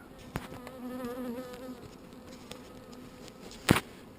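Honey bees buzz steadily around a wooden hive with drilled holes, a wavering drone with occasional sharp taps and a louder knock near the end.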